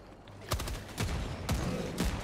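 Bursts of gunfire in Helldivers 2, four loud broadband shots roughly half a second apart over a constant background rumble.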